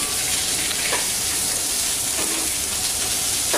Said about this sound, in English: So here we have the artichoke leaves in the olive oil. Saute them a bit.